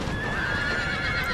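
A horse whinnies and neighs as it is killed in a World War I battle video game, a close, loud, sustained cry with faint hoofbeat-like clatter beneath, no talk over it.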